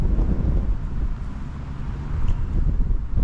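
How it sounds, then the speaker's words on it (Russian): Strong wind buffets the microphone in Eskeldi Bi village, Karatal District, Kazakhstan, a loud continuous low rumble with gusty fluctuations throughout. "Погода все так же ветреная."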